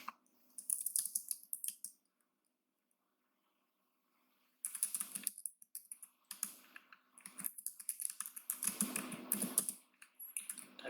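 Someone types quietly on a computer keyboard in short bursts of rapid key clicks, with a silent gap of a few seconds in the middle.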